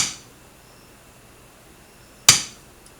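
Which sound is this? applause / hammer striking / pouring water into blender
hammer striking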